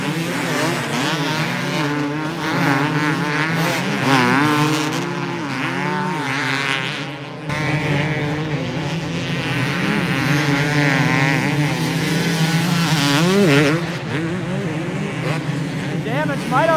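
Two-stroke motocross bikes racing at Glen Helen in the Open Pro motos, several buzzing, wavering engines revving and shifting at close to middle distance, nearly continuous over about seventeen seconds.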